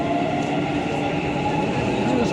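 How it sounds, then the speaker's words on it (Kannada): A metro train in the UAE runs past a station platform, its steady rumbling roar filling the space at close range and loud throughout, with faint chatter in the background. "ಇದೇ ಥರ 3-4 ಮೆಟ್ರೋ ಹೋಗೋದು."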